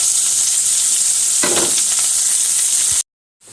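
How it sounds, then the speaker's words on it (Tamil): Chopped onion sautéing in hot oil, a loud, even close-up sizzle with a brief stirring rustle in the middle, cutting off abruptly near the end, no talk. "இந்த வெங்காயத்தை கொட்டி நான் வதக்கிக்கிறேன்"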